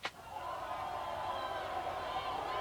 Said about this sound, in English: we have the angry crowd sound effect